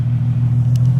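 A Nissan 370Z Nismo with a louder exhaust mod idles and revs in a steady, loud, deep low-toned drone that holds through the whole moment, with no talking.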